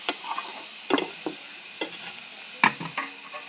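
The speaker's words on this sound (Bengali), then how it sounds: "শাকটা ভালো করে নেড়ে চেড়ে নেব" Greens fried with brinjal and garlic being stirred in a pan, with scraping strokes and soft sizzling arriving in brief irregular bursts, close and moderately quiet, with no voices.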